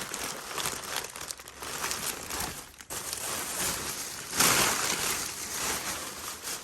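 Crinkly plastic chips packaging rustles and crackles continuously, handled close up, with a louder burst of crumpling partway through.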